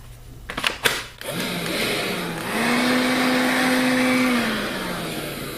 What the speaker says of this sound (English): I got this thing hoping it would be a decent little dust collector for maybe small chips on my lathe or some sawdust.